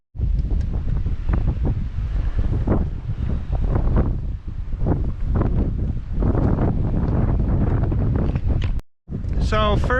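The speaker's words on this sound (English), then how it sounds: "excuse the wind, it's pretty windy," Strong gusting wind at a hilltop overlook near St. Genevieve, Missouri, on a frigid day roars and buffets the microphone almost without pause, briefly cutting out before resuming, with a voice talking underneath.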